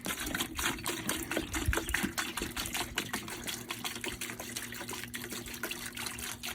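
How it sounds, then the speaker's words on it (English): Ice cold water poured for backyard chickens, a steady trickling flow with faint rattling clicks and a low hum underneath, no voices. "Giving y'all some ice cold water."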